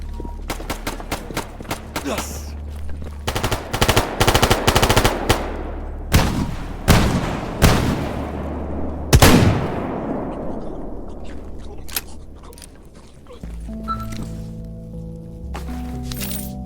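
Mercenary attack in the STALKER GAMMA video game: sharp bursts of automatic gunfire and single cracking shots ring out in rapid clusters, loud and close, then ebb into a lingering tail before a low rumbling drone takes over.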